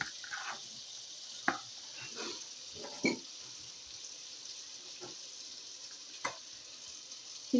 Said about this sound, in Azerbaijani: İndi isə yaxşı qatışdırırıq.